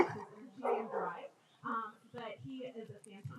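Search and rescue dog whimpering with short yips and soft barks, faint and intermittent, mixed with voices nearby.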